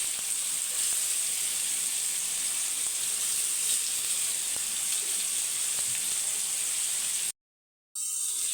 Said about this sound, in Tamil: அதனால் நான் இப்படியே பொறிக்கிறேன்